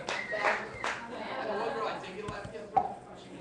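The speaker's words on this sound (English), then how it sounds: "Clap your hands in the house for him." Scattered clapping from a small pub audience breaks out in a few sharp bursts, and chatter and laughter run around it.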